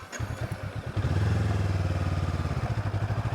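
A motorcycle pulls away on a rural road near Koh Ker temples in Cambodia, its engine thumping in a steady close rhythm as it gets under way and rolls on.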